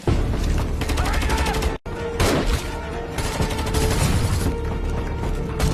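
Rapid gunfire from the action film Counterstrike crackles in dense bursts with heavy booms, loud and close, dropping out for an instant before the shooting resumes.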